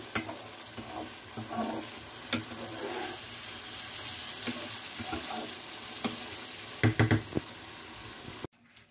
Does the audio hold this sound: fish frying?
yes